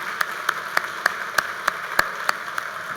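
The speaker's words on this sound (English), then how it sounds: "Can we get a round of applause for everybody?" Sharp, evenly spaced claps ring out at a symposium lecture on creativity, one roughly every third of a second, crisp and distinct above a quiet, hissy room rather than a full crowd roar.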